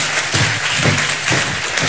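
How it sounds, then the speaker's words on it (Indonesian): A congregation at a healing church service claps together in a short burst of loud, roughly rhythmic claps heard up close. "Tepuk tangan dong semua."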